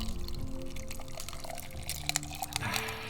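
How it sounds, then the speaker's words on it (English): An energy drink is poured over ice in a glass, a soft continuous liquid trickle and fizz with a few sharper ice clicks and crackles toward the end, close and moderately quiet. "This is a energy drink which I am pouring over ice"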